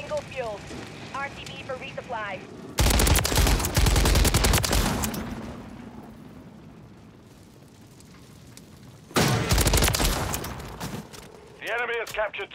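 Taq Eradicator rifle fire in Call of Duty: Modern Warfare III, with two loud sustained bursts of rapid automatic shots separated by quieter gameplay, and a player talking between them.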